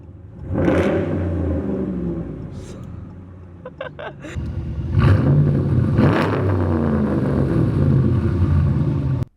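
A 5.7-litre V8 engine in a 2008 Dodge Ram revs up several times in strong surges, rumbling deeply between bursts, with a few sharp clicks in the middle.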